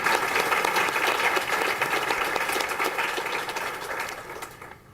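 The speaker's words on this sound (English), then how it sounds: "Please give a round of applause" Sustained audience applause fills a ceremony honoring women at Iowa State University, dense steady clapping that stays loud throughout and tapers slightly at the end.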